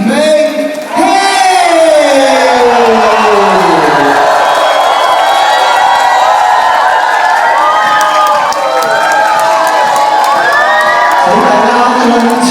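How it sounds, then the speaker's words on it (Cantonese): Fans at Gigi Yim's 21st birthday party cheer loudly, a dense roar of screams and high-pitched shouts lasting throughout, with an amplified voice heard briefly at the start. "請大家盡情歡呼"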